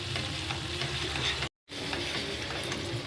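Spice paste hits a hot pan and fries with a steady, close broadband sizzle and stirring, broken by a brief silent gap midway before the frying resumes.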